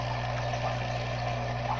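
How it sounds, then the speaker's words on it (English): A sponge filter with an air stone in a 55-gallon cichlid aquarium bubbles steadily, a continuous close watery fizz over a low, constant hum with no pauses. "This sponge filter has an air stone, and it draws water through the tube and creates a suction through the sponge."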